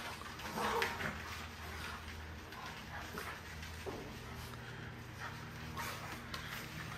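Dogs in a homemade garage kennel bark and whimper in short, scattered bursts, fairly faint and with one louder yip early on, over a low background hum.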